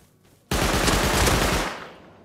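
Loud burst of automatic gunfire from the Rust Console Edition video game, a dense rapid volley lasting about a second before cutting off and fading into a quiet tail.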